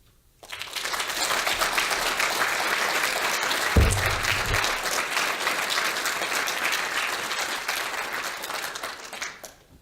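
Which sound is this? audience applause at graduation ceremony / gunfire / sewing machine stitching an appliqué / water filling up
audience applause at graduation ceremony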